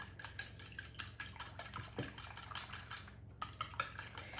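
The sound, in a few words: whisking eggs with a whisk or fork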